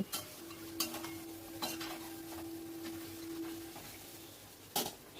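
Meat being stirred in a pan over medium-low heat, with a few scattered scrapes and clinks of a spoon over a faint low sizzle and a sustained hum, close and quiet.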